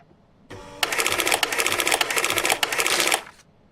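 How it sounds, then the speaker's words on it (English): Inspection booth shutter in the game Papers, Please rolling shut, a loud mechanical rattling clatter that runs steadily for under three seconds and then stops abruptly. "Maybe I'll just close the shutter on him."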